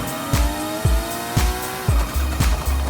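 A versatile off-road car in Forza Horizon 5 roars along with its engine rising and dropping through repeated gear shifts, with tires squealing over it and no talk.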